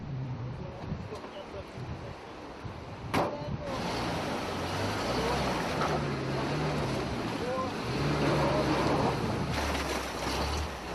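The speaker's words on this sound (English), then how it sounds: "The Ardon River bed starts to fill in with water." The Ardon River rushes continuously close by, water roaring, with wind buffeting the microphone and a low engine-like hum running underneath.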